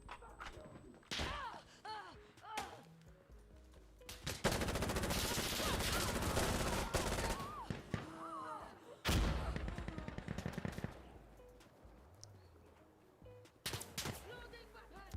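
Gunfire in the online shooter Insurgency: Sandstorm comes as loud bursts of rapid automatic fire mixed with single shots and thuds, broken by short pauses.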